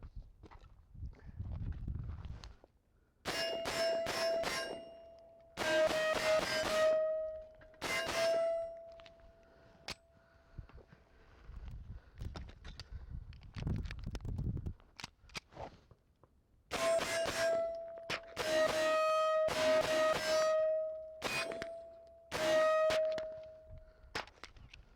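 Rounds strike an Amsec steel torso target, giving clusters of bright ringing clangs and pings with lingering tones, heard from a distance between quieter stretches of low outdoor rumble.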